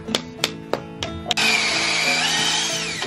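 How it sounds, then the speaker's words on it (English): A few sharp knocks, then a power drill whirs up loudly and runs steadily at high speed, close by, with no talking. "Bigger drill thingy."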